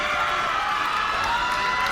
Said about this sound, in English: the crowd is giving him energy